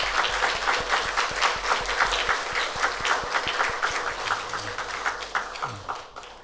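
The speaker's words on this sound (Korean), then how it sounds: "우리 격려의 박수 하겠습니다" A chapel audience at a university service applauds the choir, its conductor and pianist, a dense, sustained wash of clapping that carries on steadily and eases off slightly toward the end.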